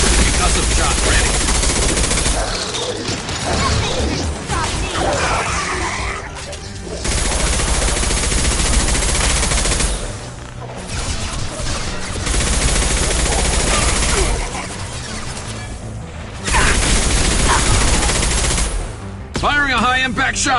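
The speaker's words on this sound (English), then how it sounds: "Firing a high-impact shot!" Heavy, continuous automatic fire fills a Mass Effect 2 battle with loud, dense bursts and short lulls, while combat voices call out over the shooting.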